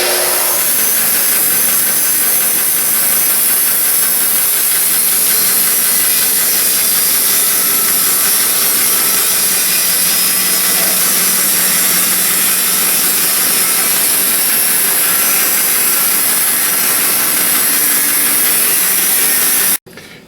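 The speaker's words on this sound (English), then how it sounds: "how we've now sawn this section off with a resaw blade" A resaw blade cuts steadily through a wooden block while shingles are being made, a loud, continuous rasping drone that runs unbroken for the full length and stops abruptly at the end.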